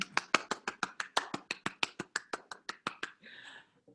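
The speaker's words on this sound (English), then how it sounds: "Can you give our Playscapers and yourselves a round of applause" Online audience applause over Zoom, a fast run of about twenty sharp, distinct claps from a single nearby source at a steady rhythm, quiet overall, ending with a brief softer rustle.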